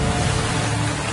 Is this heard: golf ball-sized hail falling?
yes